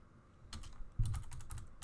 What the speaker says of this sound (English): So we're going to type in sudo pacman-syu